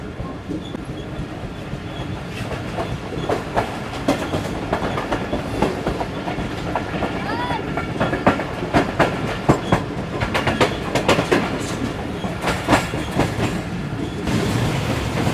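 A Karakoram Express train in a new rake runs fast between Tando Adam and Shahdadpur, heard from on board as a loud, continuous rumble with rapid clickety-clack rail joints and occasional sharper knocks.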